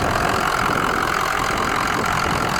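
A truck's 6.0 engine idles with the hood open, a steady, close, mid-pitched running drone with even texture and no other sounds over it.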